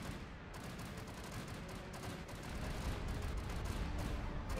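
Sustained distant gunfire and bombardment from a Star Wars galactic strategy game battle, a dense steady crackle of shots and rumbling fire that swells slightly louder toward the end, with no talking.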